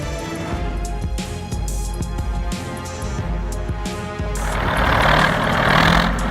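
A tractor engine runs steadily and loud throughout, a heavy diesel-like rumble with clattering mechanical overtones, swelling into a harsher, noisier roar near the end.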